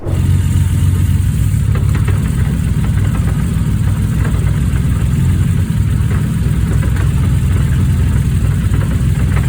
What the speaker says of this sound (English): the transmission sounds like it has a literal box of rocks banging and clanking around inside of it